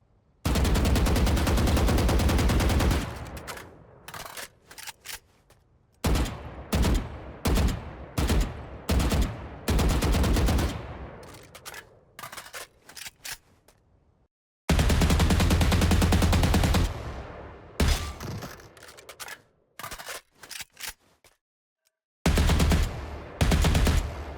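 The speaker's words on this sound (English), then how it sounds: "the 2021 Vandal actually has the default, or at least very close to default, shooting sound" Automatic rifle fire from the Champions 2021 Vandal skin in Valorant, a near-default firing sound: loud rapid bursts and sustained sprays, with several short gaps of silence between strings of shots.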